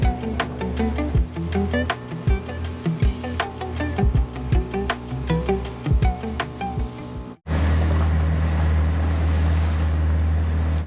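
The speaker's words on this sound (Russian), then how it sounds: "40 минут на моторной лодке местных рыбаков" Local fishermen's motor boat runs on the sea off Socotra, its engine droning loud and near with rhythmic thumps as the hull hits waves, then shifting to a steady rumble with wind and water noise.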